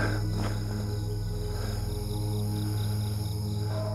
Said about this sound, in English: only thing making noise is a little old cricket way out here